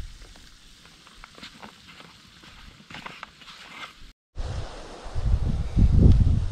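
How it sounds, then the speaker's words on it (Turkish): Mushrooms sautéing in a pan with cream over a camp stove, a soft crackle with scattered taps at first, then after a brief cut a louder, fuller sizzle and bubbling that builds toward the end. "Evet, mantarları soteledik."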